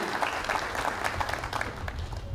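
Steady applause from a seated audience at a Red Social talk greets the host, many hands clapping in an even, continuous roar, fairly near, with faint crowd murmur beneath.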